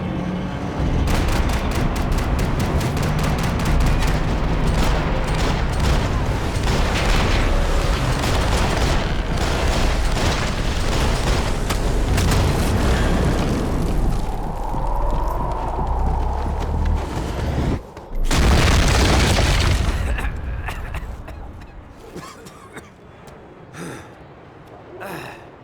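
Intense gunfire and explosions fill a Max Payne 3 firefight, a dense, loud barrage of rapid shots and blasts with strained gasps and shouting voices, cutting out briefly before a final burst and a quieter tail of scattered shots.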